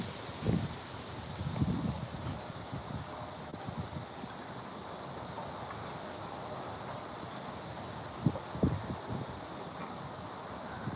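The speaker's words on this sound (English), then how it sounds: "It's kind of windy though." Wind blowing outdoors near playground swings, a continuous rough rumble buffeting the microphone with gusty swells and a few brief thumps, no talking.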